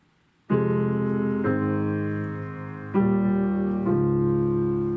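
Piano chords from a song struck in a steady rhythm, each chord ringing on before the next, with a new attack roughly every second and a half.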